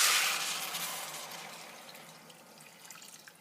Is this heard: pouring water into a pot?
yes